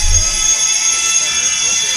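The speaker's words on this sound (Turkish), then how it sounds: "Alarm ya." An alarm goes off during a FUT Draft football game session, a loud, sustained high-pitched electronic tone that holds steady throughout, with a voice underneath.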